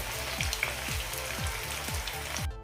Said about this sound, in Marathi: चला तर मग आपण हे सर्व फ्राय करून घेते